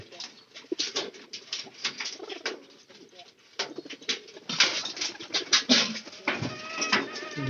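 Pigeons cooing nearby, a hen with a single newly hatched chick, giving repeated soft rhythmic coos with some rustling and feeding sounds, and someone talking at times in between.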